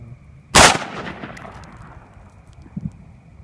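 A real handgun fires a single loud, sharp report that rings off and decays over about a second, followed by a couple of faint thuds and background noise.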